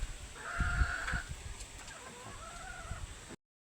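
Laguna Pumpkin Hennie chickens cluck softly in a farmyard, with a few low calls. Faint background noise runs under the clucking until it stops suddenly.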